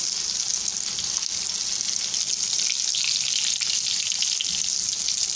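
Food sizzles steadily in a hot frying pan, a continuous close hiss with faint stirring and no voices.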